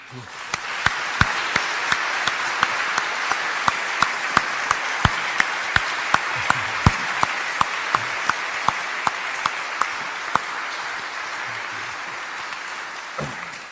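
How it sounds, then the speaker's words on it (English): An audience applauds continuously, a dense, even wash of clapping that holds steady for a long stretch before tapering slightly at the end. "Thank you it's- for clapping like Yeah. that."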